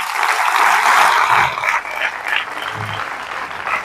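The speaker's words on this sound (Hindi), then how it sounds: "खुद के लिए तालियां बजाइए" An audience at an indoor gathering applauding, loud dense clapping that swells for about a second and a half, then thins into scattered claps and fades out, close and filling the room.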